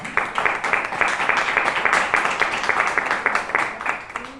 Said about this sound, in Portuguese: Vamos aplaudir essa palavra aqui